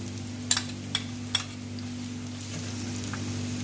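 Tuna dropped into a pan of chopped garlic sizzles steadily up close, with a few sharp clicks and scrapes early on over a constant low hum.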